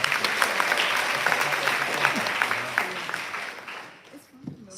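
Sustained audience applause at a live storytelling show, steady and dense for about four seconds before thinning out and fading, with a few faint voices mixed in near the end.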